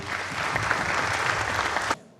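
Audience applause at a Turkish media awards ceremony, welcoming a speaker onto the stage: dense, steady clapping from a full room that holds an even level for about two seconds, then stops abruptly.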